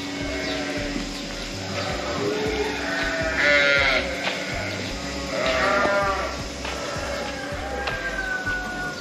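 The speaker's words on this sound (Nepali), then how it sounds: "के गर्नु, बाख्रा हेर्नै पर्यो" Goats being herded along a dry, grassy rural path in Nepal bleat loudly and close by in several drawn-out calls, under a constant low rumble.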